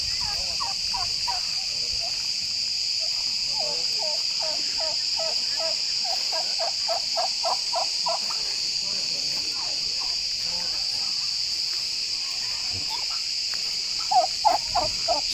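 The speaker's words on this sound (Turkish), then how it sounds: "Saydım şu an tam 30 tane" A flock of around thirty turkeys gobbles in repeated rapid bursts at moderate distance, set against a constant loud chorus of crickets, with a closer gobble near the end.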